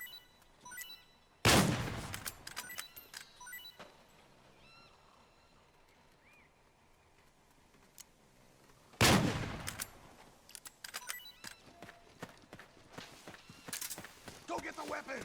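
Gunfire in Metal Gear Solid 4, with two loud bursts of heavy shooting, the first near 1.5 seconds and the second near 9 seconds, followed by scattered rapid shots and footsteps, mixed with talk.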